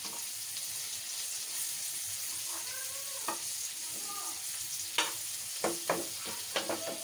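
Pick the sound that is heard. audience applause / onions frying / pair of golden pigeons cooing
onions frying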